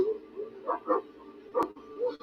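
Dogs bark and yip from a television drama playing in the background, faint and distant, in short scattered bursts mixed with dialogue from the show.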